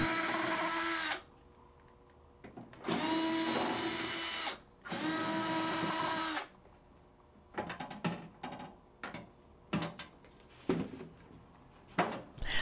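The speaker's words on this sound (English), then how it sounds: "Remove the screws holding the bottom pan." A power drill or screwdriver backs screws out of the bottom pan of a Paragon SC-Series kiln, giving three sustained whirring bursts followed by a run of short clicks and brief spins, close and clear with no talking.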